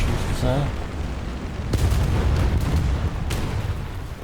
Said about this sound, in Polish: Rzuciłem artylerię, wpadają jakieś trafienia, pierwszy strzał nieudany